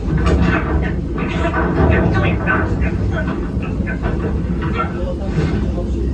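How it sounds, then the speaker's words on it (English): A train rumbles past steadily, a loud, close, clattering roar with a hissing edge that holds for the whole stretch. "Peter, that's not a snake. It's a train"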